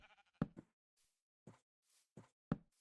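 A goat bleats in Minecraft, a few short nasal bleats mixed with soft knocks and bumps, quiet and spaced apart.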